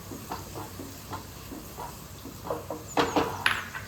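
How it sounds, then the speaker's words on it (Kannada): Chopped onion and capsicum frying in oil, a low continuous sizzle with occasional stirring scrapes and sharper crackles near the end. "ಹಾಗೆಯೇ ಇದಕ್ಕೆ ನಾನು ಸ್ವಲ್ಪ ಕ್ಯಾಪ್ಸಿಕಮ್ ಇದೆಯಲ್ವ ಅದನ್ನು ಹಾಕಿ ಚೆನ್ನಾಗಿ ಫ್ರೈ ಮಾಡ್ಕೋತಾ ಇದ್ದೀನಿ"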